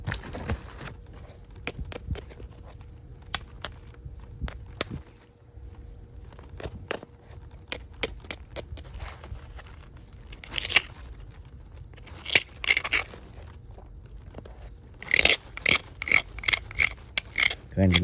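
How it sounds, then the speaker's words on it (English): A sandstone hammerstone grinds and scrapes along a knapped stone edge, with quiet irregular ticks and sharp clicks that turn into denser rapid scraping near the end. "Grinding down, get that angle steep enough."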